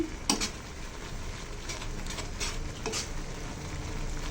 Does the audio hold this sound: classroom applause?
no